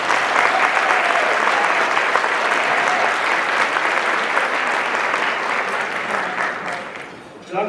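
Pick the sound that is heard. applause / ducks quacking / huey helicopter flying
applause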